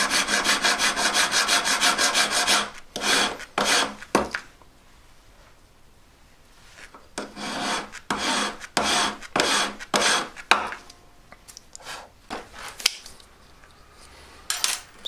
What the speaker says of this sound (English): Done loads of filing on it.